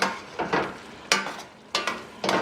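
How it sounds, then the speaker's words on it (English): Spoon stirring olives and parsley into a pot of stewed chicken with mushrooms, giving a few separate wet scraping and sizzling bursts close to the microphone, alone. "Here's where I'm going to go in with those olives now. And a bit of parsley. Give it a stir."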